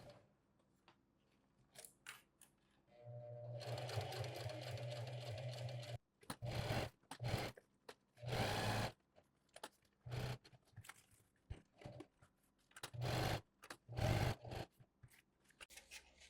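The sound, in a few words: sewing machine stitching a 1/4 inch seam around pouch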